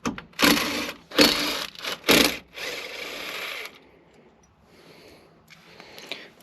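Bursts of a power tool running bolts out of a short throw shifter on a BEAMS 3SGE transmission, three quick whirring runs close by, followed by quieter clicks and handling noise, with no talk.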